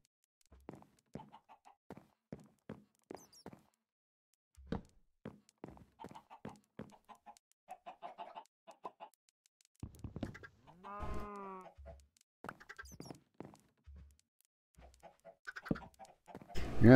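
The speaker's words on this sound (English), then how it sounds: "there's our rogue chicken that got bounced out" Blocky Minecraft chickens cluck in short, scattered bursts, a sparse run of brief calls with quiet gaps, a few louder squawks near the end.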